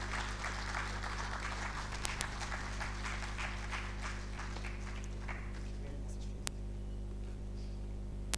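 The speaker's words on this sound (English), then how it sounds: "Let's keep clapping until she gets here." Applause from attendees at an engineering week event as a speaker is awaited, a faint, scattered clapping that thins out over time above a steady low hum, with a couple of sharp clicks.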